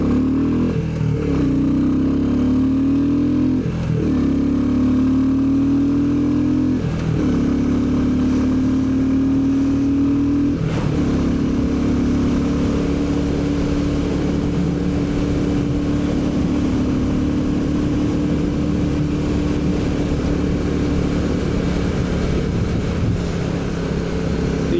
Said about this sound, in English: as the miles go by, Walter's engine certainly loosening up